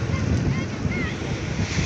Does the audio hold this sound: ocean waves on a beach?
yes